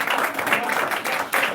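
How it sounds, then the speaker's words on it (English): Audience members at a business meeting clap in a lively burst that swells, dips briefly and rises again over a second and a half. "A big round of applause for Bindu ji."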